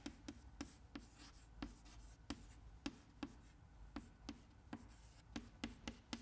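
Chalk or marker writing an equation on a board during a heat transfer lecture: a steady series of short, sharp taps and scratchy strokes, close and fairly quiet, with no talking.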